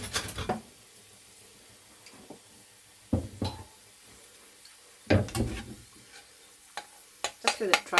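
Garlic fries in oil in a pan, a soft sizzle under intermittent bursts of stirring and scraping, several separate clattering strokes spaced a second or two apart.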